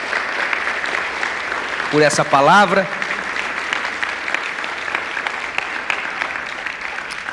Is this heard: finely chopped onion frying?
no